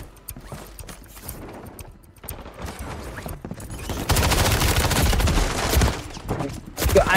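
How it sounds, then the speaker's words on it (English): Rapid automatic gunfire in Call of Duty Warzone on Rebirth Island, loud bursts of shots that swell to dense sustained firing over battlefield clatter. "I just get shot out of nowhere."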